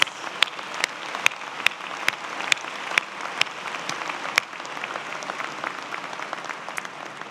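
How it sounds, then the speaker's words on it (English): A large crowd at a Georgia Tech spring bachelor's commencement applauds families and friends with steady, sustained clapping throughout, with no speech over it. "Let's give families and friends a round of applause"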